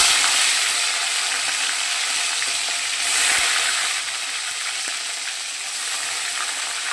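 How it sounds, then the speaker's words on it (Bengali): Tengra fish fries in a hot pan with oil, giving a steady, loud, dense sizzle that holds evenly throughout, with faint clicks of stirring and no voices. "ট্যাংরা মাছটা আমি ভেজে নিচ্ছি"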